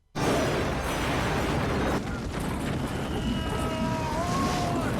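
A sudden loud blast bursts in and rolls into a sustained roaring rumble, with faint whistling tones rising near the end.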